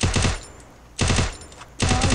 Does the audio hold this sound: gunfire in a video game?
yes